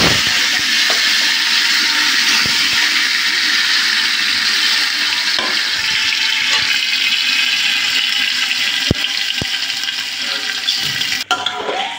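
Rice pouring into a pot of bhog khichuri, a steady loud rushing hiss throughout with a few faint clicks, no voices.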